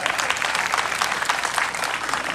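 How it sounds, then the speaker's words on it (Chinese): An audience at an outdoor tree-planting concert claps together in steady, dense applause that stays at an even, fairly loud level throughout. "给自己掌声鼓励一下。"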